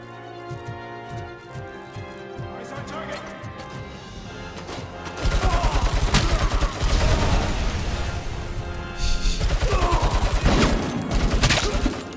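Heavy gunfire from a weapon in the video game RoboCop: Rogue City, rapid dense bursts that swell loud after a quieter stretch of game sounds, with booming impacts and crashing debris mixed in.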